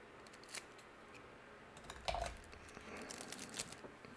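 Scissors snip into card packaging at a desk, a few quiet, close cuts and crinkles spaced irregularly in a hushed room.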